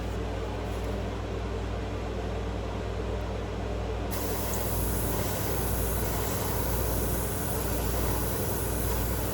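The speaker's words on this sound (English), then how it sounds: "Spraying at a downward angle." Steady hissing spray of an airbrush repainting a crankbait fishing lure runs throughout, a continuous broadband rush that brightens partway through, with a low mechanical hum underneath and no talking.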